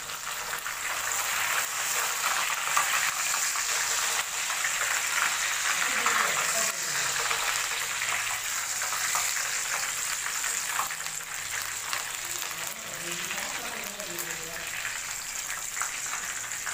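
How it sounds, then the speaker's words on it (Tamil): Fish fry and curry leaves frying in hot oil, giving a steady bubbling sizzle with a gurgle of oil, close and continuous, with a voice talking over it. "நெக்ஸ்ட்டு வந்து கருவேப்பிலை போட்டு தாளித்து எடுத்துக்கலாம்"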